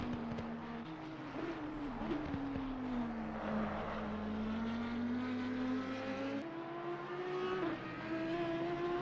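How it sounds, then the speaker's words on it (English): A high-pitched V10 race car engine in a Nordschleife 24-hour racing game event wails past, its tone sliding down and rising again, heard from a distance over steady background noise. "Bit more V10 goodness from the 121 car."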